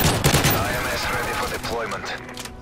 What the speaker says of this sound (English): I'm shooting through the trees there